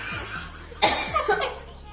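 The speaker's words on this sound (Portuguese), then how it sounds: "com cheiro ela tossiu" A woman coughs from the sharp smell of hot pepper in a home kitchen, a sudden loud burst followed by a couple of short, choked follow-up coughs, with light laughter around it.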